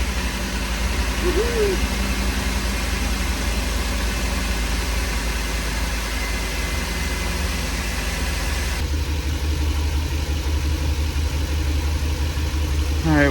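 A Ford 5.4 V8, freshly repaired exhaust manifold, runs at a steady low idle, close and continuous, with a brief cheer and voices over the engine.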